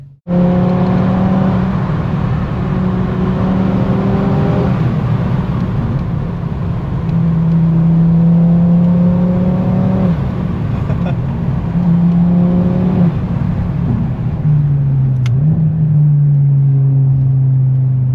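A 2022 Audi RS3 sedan engine pulls hard through several rising gear runs with quick shift breaks, loud and close from inside the car, then drops sharply as it brakes hard.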